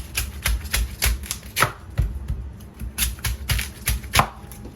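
A knife quickly peels a bamboo shoot, giving a steady run of sharp cuts and scrapes, close and rhythmic, with no talking.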